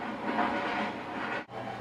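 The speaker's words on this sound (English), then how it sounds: "I kind of just like listening to the train sounds" Recorded train sounds in a basement replica of a Via passenger rail car, a soft continuous rumble and rolling hiss, faint and steady with a brief dropout near the end and no talking.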